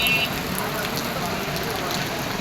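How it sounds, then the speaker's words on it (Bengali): Light drizzle falls steadily on a street in Rangpur, a constant soft patter and hiss at even loudness throughout, with no clear voices. "গুড়ি গুড়ি বৃষ্টি।"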